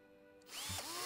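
Power tool zipping screws out in the video game Gas Station Simulator, a rising whine that starts abruptly after a moment of quiet and keeps spinning up and down, loud and close.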